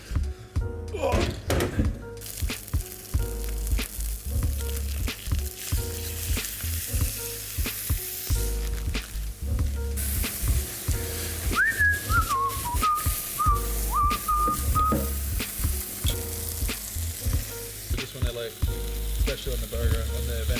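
A venison burger sizzles steadily in a lightly oiled frying pan on high heat, with occasional thunks and clatters of the pan and utensils and a brief whistling tone partway through.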